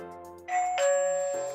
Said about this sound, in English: it does a single chime